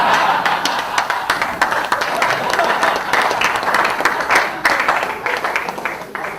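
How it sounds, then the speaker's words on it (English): Audience applause fills a hall of fame awards ceremony for a college athletics coach, steady dense clapping from a large crowd, loud and continuous throughout. "People start clapping."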